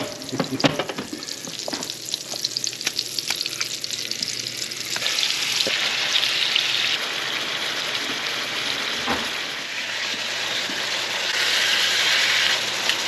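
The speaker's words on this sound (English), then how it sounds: "All right, let's start frying these." Loud, continuous sizzling and crackling of pork tenderloin frying in a pan, with occasional clinks and scrapes as pieces are moved.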